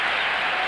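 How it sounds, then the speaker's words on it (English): Steady applause from a college basketball crowd at an arena as a player walks off to the bench, a dense, even wash of clapping with no break. "nice applause as he heads to the bench"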